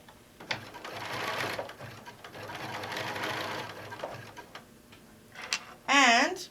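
A sewing machine stitches a wide zigzag while an apron and potholder are made from a fabric panel, its steady mechanical whir running close and continuous for several seconds before a short pause and a brief burst of talk at the end.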